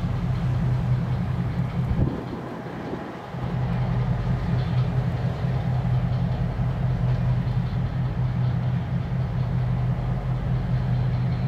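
A Canadian Pacific locomotive moving through a rail yard produces a steady, loud diesel drone with a low throbbing hum. A brief dip in the sound breaks the rumble before it continues evenly.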